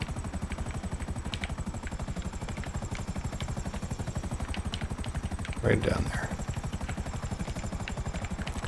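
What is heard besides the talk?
helicopter flying in a video game, GTA Online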